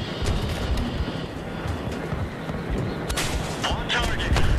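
Heavy booming blasts and gunfire in the Battlefield 3 video game roll on densely and loudly, with sharp cracks breaking through a constant rumble.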